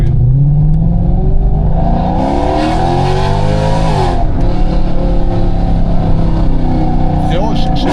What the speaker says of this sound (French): C'est la voiture qui fait du bruit